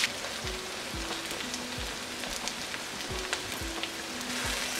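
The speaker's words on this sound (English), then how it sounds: "And now I'll add my sliced onions. We'll fry these onions till they are transparent." Sliced onions frying in a pan for lamb rogan josh give a steady soft sizzle with a few faint low knocks, quiet and even throughout, with no talk.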